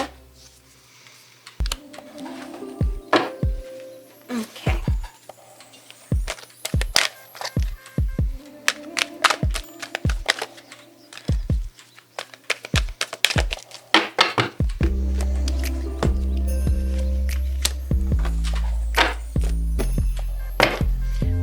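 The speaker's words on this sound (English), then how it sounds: "These are already shuffled. I just like to do my energetic shuffle." Tarot cards riffled and tapped in quick, uneven bursts of crisp clicks and thumps, ending in a denser, steady shuffling rush; one brief spoken word.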